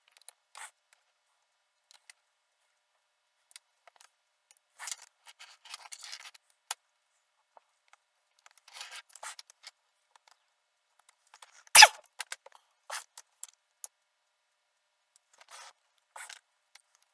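Scissors trim heat shrink tubing on a switchable balun build, sparse short snips and faint clicks scattered across quiet pauses, one sharper cut standing out, no talking.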